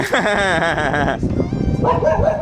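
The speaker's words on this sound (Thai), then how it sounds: "เห่าแล้วต้องวิ่งเป็นวงกลมด้วยนะ" Dog barking and yipping with strained, whining vocal tones, close and loud, overlapping with loud excited voices and mixed household commotion.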